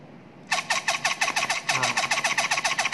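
A small electric motor runs at 4 volts, giving a rapid, even series of whirring, ratcheting pulses that start abruptly and carry on loud and close, with no voices.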